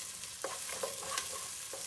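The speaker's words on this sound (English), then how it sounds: "So do you hear that sizzle?" Hot oil sizzles in a pan while an onion-filled mixture is stirred, a faint continuous hiss with small scraping stirs, close and quiet, with no talk.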